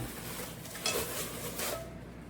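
A metal frying pan clanks and scrapes in a couple of brief bursts, close by, over a quiet room hum with no talking.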